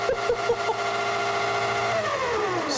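Motors of a radio-controlled XXL LEGO go-kart, driven from a Spectrum DX7 transmitter, run in a steady, smooth harmonic whine that holds close and fairly loud for the whole stretch, with a slight rise in pitch near the end.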